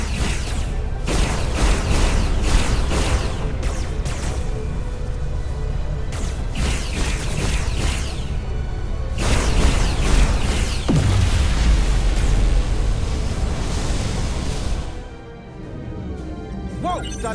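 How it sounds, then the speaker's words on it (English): A dilithium crystal explosion in the Star Trek Resurgence video game, a dense, loud rumbling blast that sweeps downward and sustains across the clip amid game voices and effects before dropping off near the end. "Dilithium explosion!"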